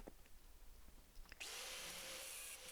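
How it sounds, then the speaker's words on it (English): Power tool grinding off the protruding tips of long screws on a homemade table saw sled, starting after a moment of quiet shuffling and then running as a steady high-pitched whine. "basically you have to flip it over and grind them off"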